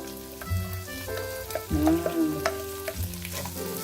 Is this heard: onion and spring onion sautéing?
yes